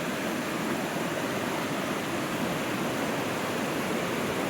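Creek water flows steadily near a trailside campsite, a dense even rushing hiss with no breaks, heard close and alone without voices.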